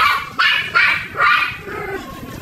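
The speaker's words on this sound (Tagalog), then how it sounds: "Medyo maingay po yung aso namin." A house dog outdoors lets out three loud, close barks in quick succession, followed by a softer whining yip, with no talk over it.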